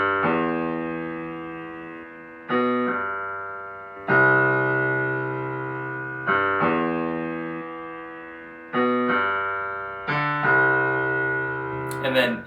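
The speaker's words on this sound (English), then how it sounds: "is the bass line, which sounds like this" The bass line plays alone, with long sustained synth-like notes that swell and slowly fade, shifting in pitch every couple of seconds.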